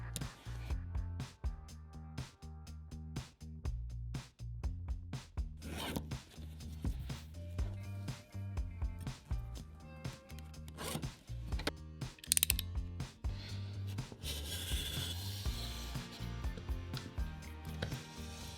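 Cardboard is cut to shape with a blade for a dice tray, producing close, faint ragged ripping and scraping strokes in irregular bursts.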